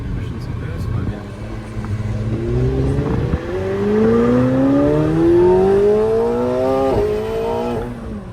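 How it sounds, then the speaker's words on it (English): A McLaren 750S with a twin-turbo 4.0-litre V8 revs hard, pitch sweeping upward in repeated pulls, with sharp blow-off valve bursts between surges; a person talks over it. "That sounds so good. I love the blow-off valves. Pushing some boost"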